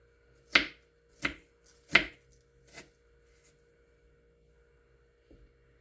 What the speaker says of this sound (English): So not only am I chopping up for the breakfast this morning